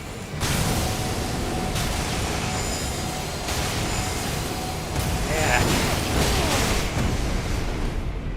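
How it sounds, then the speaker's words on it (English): Explosions from the Elden Ring: Shadow of the Erdtree video game: several dull booming bursts rise out of a dense, continuous wash of loud game noise, with a voice talking over parts of it. "He keeps on getting yeeted by the explosion."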